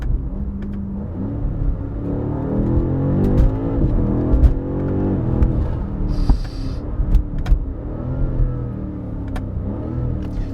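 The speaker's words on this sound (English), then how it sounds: "Let's downshift a couple times." A BMW M5 CS engine revs up and drops through several quick downshifts. Sharp blips and crackles punctuate a close, loud, rising and falling roar, and no voices are heard.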